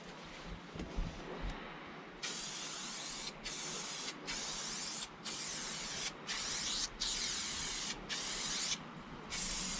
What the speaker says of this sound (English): Heavy duty spray adhesive.